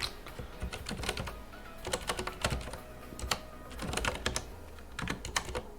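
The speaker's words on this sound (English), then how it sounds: "My typing today is horrible." Rapid clattering keystrokes on a computer keyboard during a coding session, irregular bursts of close clicks with short pauses, no talking.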